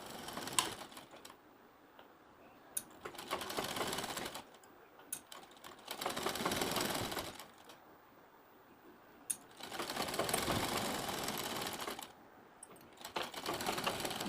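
A sewing machine stitches a fabric strip onto a sleeve in several short bursts of rapid clatter, separated by quiet pauses with faint handling clicks.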